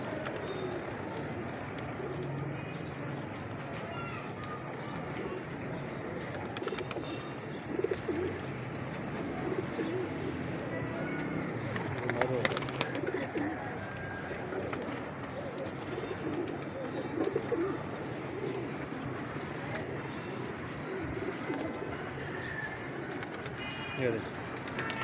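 Pigeons at a Lahore bird market coo softly and repeatedly in the background while people talk nearby throughout.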